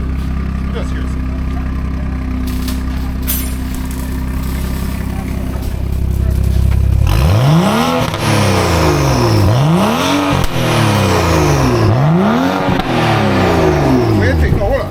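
A car with an aggressive-sounding aftermarket exhaust idles with a low rumble, then revs repeatedly in loud, close sweeps, each climb and drop in pitch distinct, with people talking nearby.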